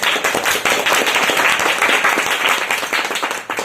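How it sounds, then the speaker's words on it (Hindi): An audience applauding at a motivational talk in Hindi, loud dense clapping from many hands that stays steady before tapering slightly at the end, with no voices over it. "ताली बजा लो, फिर शुरू।"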